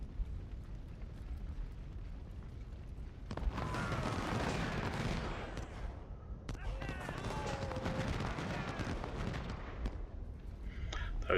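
Cannon and musket fire from a Civil War battle in Ultimate General: Civil War rumbles continuously, with dense crackling volleys and booming bursts that swell at about three and a half seconds and again at six and a half seconds.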